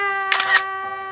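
A camera shutter fires once to take a family photo, giving a crisp double-clack of mirror and shutter, close and clear against a steady electronic hum.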